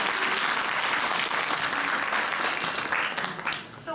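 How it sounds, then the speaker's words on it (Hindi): A room of women at a college Women's Day event applauds for themselves, the clapping loud, dense and continuous, easing slightly near the end. "एक बार अपने लिए तालियां."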